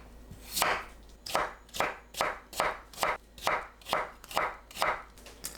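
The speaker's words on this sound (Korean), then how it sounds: "감자를 채 썰어주세요" A knife julienning potatoes on a cutting board for a beet-and-potato stir-fry, with about nine crisp, close chopping strokes falling in a steady, even rhythm.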